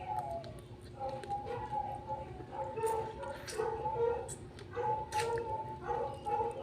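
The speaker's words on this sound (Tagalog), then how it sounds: "Mga ungol-ungol mga ero diri." Dogs in a rural Philippine yard give low growls, whimpers and yips in short repeated bursts, close by, with someone talking over them in between.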